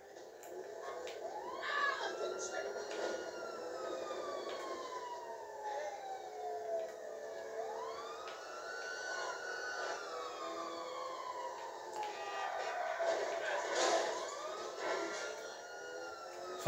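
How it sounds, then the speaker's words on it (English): A Grand Theft Auto V police car siren wails continuously in gameplay, its pitch sweeping up and down in long looping glides, fairly faint and steady over a quiet background. "Oh, wow, is this a police car?"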